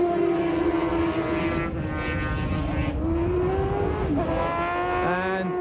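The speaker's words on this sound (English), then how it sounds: "But now Mick Boddis leads this Formula 2 race" Formula 2 sidecars with Yamaha engines race at Mallory Park in 1992, high-revving two-stroke engines screaming close by, pitch rising and falling through gear changes with a second machine joining near the end.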